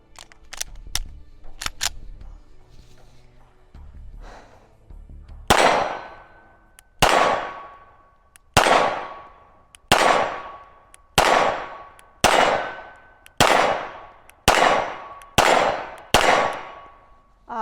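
Pistol fitted with a Cyelee Bull Pro red dot optic fired at an outdoor range: a few faint clicks and handling noises, then about nine loud, sharp shots at a steady pace of roughly one every one to two seconds, each with a ringing tail.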